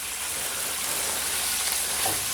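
Venison stew stirred in a pot, a dense, steady sizzle and hiss with faint scraping of the mix, close and fairly loud with no voices.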